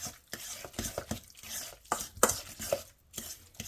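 A metal spoon mixes guacamole with salt in a bowl: close, irregular scraping and clinking of metal on metal, soft squelches between strokes, with no talking.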